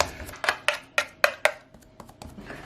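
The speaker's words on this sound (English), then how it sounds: "Grab a spoon and just flatten it" A spoon presses and flattens a protein crumble bar mixture in a pan, giving a series of short, sharp taps and scrapes in an irregular rhythm, close and fairly quiet.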